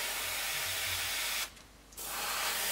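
Aerosol can spraying vivid red paint onto a 1/48 Airfix North American P-51D model kit, a steady, close, loud hiss that briefly stops for half a second before resuming, with no speech.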